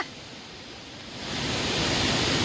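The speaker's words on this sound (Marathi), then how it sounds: "बापरे तेवढ्या उंचावरून धबधबा" The Savatsada waterfall drops from a great height as a steady, broad rushing roar that swells louder partway through and then holds, with no voices.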